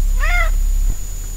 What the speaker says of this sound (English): So I'm running samples of a cat meowing from my computer here